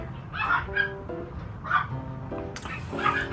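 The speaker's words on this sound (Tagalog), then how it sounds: "Tawal ng tawal yung mga aso." Several dogs bark and yelp in short bursts, fairly close, with overlapping yips and a whimpering tone against a steady background hum.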